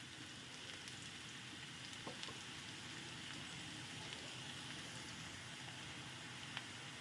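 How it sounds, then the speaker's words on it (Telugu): Chopped onions sizzle steadily in a hot pan while they brown, a soft and even crackle with faint pops throughout and no voices. "ఉల్లిపాయలు కొంచెం బ్రౌనిష్గా వేగే వరకు ఉంచుదాం"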